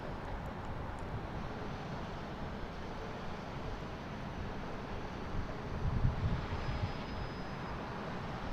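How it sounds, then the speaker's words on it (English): A United Airlines Airbus A319 jet at Boston Logan International Airport makes a steady, distant broadband engine roar. The roar swells slightly near the end and carries some wind noise, with no talking. "Now we have United Airlines and A319. Flight 2433."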